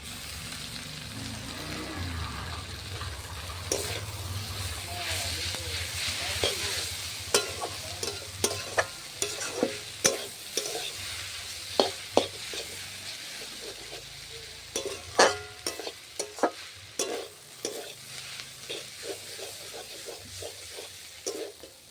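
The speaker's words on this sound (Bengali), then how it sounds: "ভালো করে গাজর আর বাঁধাকপিটাকে একটু ভেজে নেব। দিয়ে দেব এবার চাউমিনটা, সিদ্ধ করে রাখা চাউমিনটা দিয়ে দেব।" Carrot, cabbage and boiled chow mein are stir-fried in a pan, with a steady sizzle under a busy run of sharp spatula scrapes and clacks that grow louder and more frequent partway through.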